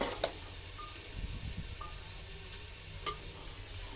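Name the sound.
sizzling onion tempering (baghar) added to nihari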